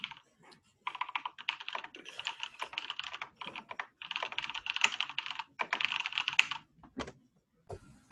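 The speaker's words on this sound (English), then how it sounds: "It sounds like you're an incredibly fast typist." Rapid, loud clatter of computer keys in quick bursts with brief pauses, close up and with no voices.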